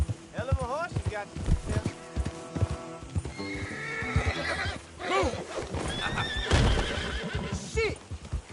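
A horse in a PS4 video game lets out several loud, drawn-out neighs and whinnies over a rapid clatter of hooves, close and busy, with someone speaking briefly amid the commotion.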